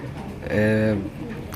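A male home-bred pigeon gives a single low, mellow coo close by, lasting under a second against quiet background noise.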